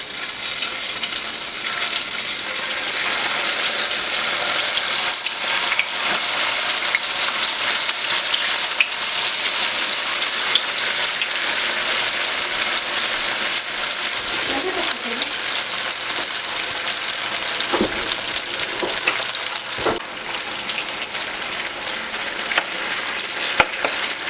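Spring rolls deep-frying in hot oil, giving a steady, dense sizzle and crackle that holds for the whole stretch, with a few sharper pops and soft clicks of utensils.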